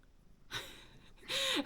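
A breathy rustle, then a short, close meow that rises and bends downward at the end.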